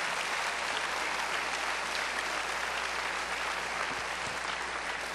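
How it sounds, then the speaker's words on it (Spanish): Church congregation applauding, a steady, dense wash of clapping hands that fills the whole stretch without pause, loud and even from start to finish, with no talk standing out. "Dele palmas al Señor con todo su corazón."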